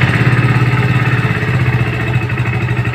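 A Hero Splendor Xtec motorcycle with fuel injection idles close by, its single-cylinder engine thumping steadily and evenly with a light mechanical clatter.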